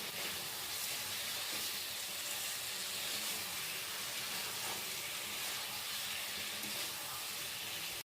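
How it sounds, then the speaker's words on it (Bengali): Marinated chicken frying in a kadai for dhaba-style chicken, a dense, even hiss of sizzling that holds steady and loud the whole time, then cuts off abruptly at the end. "ভাজা হয়ে এলে ম্যারিনেট করা চিকেনটা কড়াইয়ে দিয়ে দিলাম"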